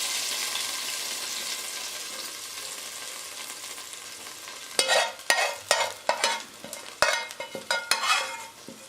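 A loud burst of sizzling erupts as hot oil tempering is poured into kadhi curry, crackling and spitting in sharp pops after a steady background hiss.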